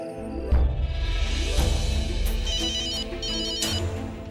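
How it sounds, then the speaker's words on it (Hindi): An unanswered phone rings with a musical ringtone, a looping electronic melody over a bass pulse, loud and unbroken throughout with no voices. "फिर से ट्राई करता हूँ।"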